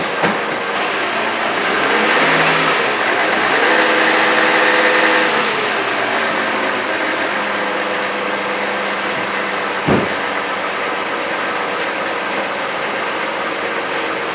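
A 2009 Toyota Avalon engine idles steadily at a raised, even 1215 RPM, with a brief soft knock partway through and no talking.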